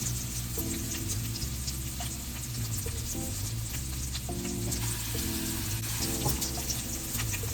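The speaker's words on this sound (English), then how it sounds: "when you searing the steak, you're supposed to just leave it alone and let it cook" Wagyu ribeye and NY strip steak searing in a hot pan, a steady loud sizzle and crackle throughout with occasional scraping and stirring clatter, no talk over it.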